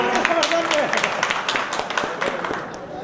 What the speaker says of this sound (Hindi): समर्थन दीजिए तालियों के साथ।